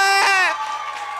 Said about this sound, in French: Applaudissez pour Habib, s'il vous plaît!